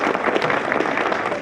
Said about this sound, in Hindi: ताली बजा दो भाई, बड़े बाबू आए।